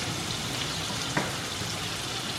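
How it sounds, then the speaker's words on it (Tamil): Chopped onions sautéing gently in a pan for a tomato gotsu, giving a steady low sizzle with a faint stir or clink partway through. "இப்போ வந்து ஒரு 2 மினிட்ஸ் சாட்டே பண்ணிடலாம்."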